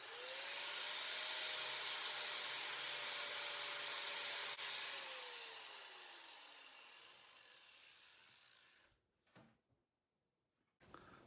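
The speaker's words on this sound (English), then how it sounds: "So I rigged up my redneck lathe" Improvised homemade lathe built from half-inch threaded rod and nuts spins a fitting with a loud steady whirring rub and a rising then falling tonal whine as it spins down, followed by a few short handling knocks near the end.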